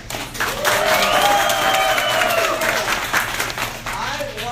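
Audience clapping and cheering at a Star Trek costume contest, a dense, loud burst of applause sustained throughout, with a voice heard over the crowd.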